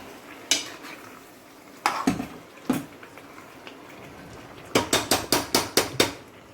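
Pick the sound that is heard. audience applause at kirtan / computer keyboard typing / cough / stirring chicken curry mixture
stirring chicken curry mixture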